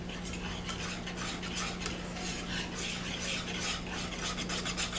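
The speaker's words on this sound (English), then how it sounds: "that's why I brought the whisk back out." A whisk stirs liquid into a chicken sauce, making a soft, steady rhythmic scraping and swishing against the pan, quiet and continuous with a faint hum underneath.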